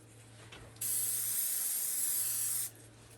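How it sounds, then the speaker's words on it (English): Anti-spatter spray from KT Industries hisses onto a weld table in one steady burst of nearly two seconds, close and bright, with quiet room hum before and after. "I've been spraying this anti-spatter down on the table before."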